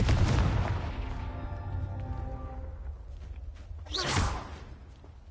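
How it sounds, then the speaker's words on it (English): The Confringo fire spell cast in the video game Hogwarts Legacy, an initial loud whooshing blast with a tonal ringing tail fading over a couple of seconds, then a second sharp swoosh burst near the end. "Confringo!"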